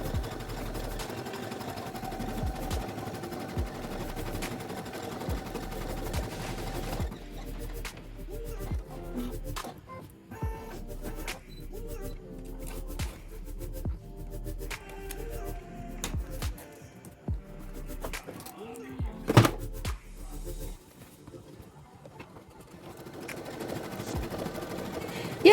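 A home embroidery machine stitches a heart-shaped keychain with a fast, rhythmic mechanical chatter of the needle. The stitching stops and restarts in bursts over a low motor hum, with occasional clicks.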